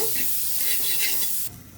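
A spoonful of butter hitting a hot pan just used for frying egg, a brief close burst of sizzling that drops off sharply near the end.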